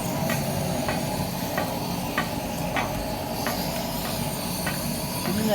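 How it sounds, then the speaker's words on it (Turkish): A constant roaring hiss of a gas torch drying a wet road surface before asphalt repair in rainy weather in Japan, steady and loud, with faint regular ticks repeating through it. "Önce tüple ateşten kurutuyorlar yeri."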